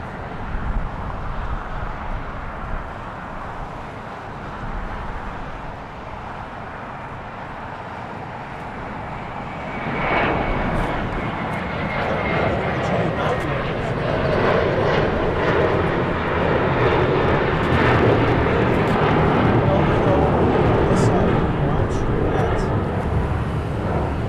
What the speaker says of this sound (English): Oh, here's a 777 freighter.